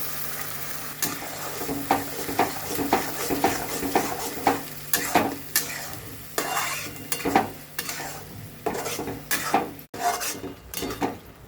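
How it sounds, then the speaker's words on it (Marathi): Ground masala paste frying in oil for an egg biryani gravy, a steady sizzle broken by repeated rhythmic scrapes and clinks of a spoon stirring against the pan, close and alone without talk. "वाटण आता छान भाजून घेतले."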